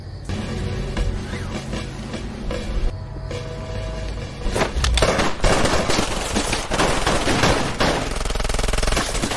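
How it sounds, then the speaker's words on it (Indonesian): Brutal film shooting with dozens of bullets fired, dense rapid gunfire and crackling impacts over a rumbling background, louder and more chaotic in the second half. "Penembakan brutal tersebut mengakibatkan kematian Watt dengan puluhan peluru bersarang di tubuhnya"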